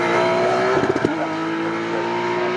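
Race cars, a BMW and a Ford Fiesta, roar loudly around a circuit at Snetterton, a sustained engine drone with pitch shifts and a brief burst of passing engine noise, no talk.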